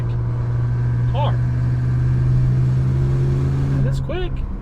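A Maserati Levante SUV with a ZF eight-speed transmission hums steadily while driving, a strong low engine drone running throughout at even loudness, with brief higher chirps and squeaks near the start and end.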